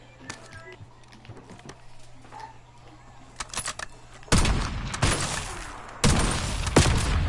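Sniper rifle gunshots in Call of Duty multiplayer, with faint scattered shots early on, then two loud, dense bursts of gunfire after the midpoint that sound close and sustained.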